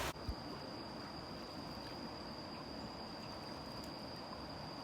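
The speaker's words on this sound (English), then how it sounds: "You got the noises of all the little mini waterfalls that join the river." Steady, even rush of flowing water as small falls spill into a river in Laos, with a faint constant high whine over it.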